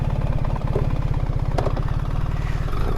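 BMW R1300GS motorcycle engine running steadily up close, a loud, even low throb with a faint mechanical clatter on top and no talking.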